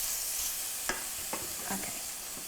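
Chicken pieces in a pan give a faint, steady sizzle, broken by a few soft scrapes and taps as the pieces are turned over, with no speech.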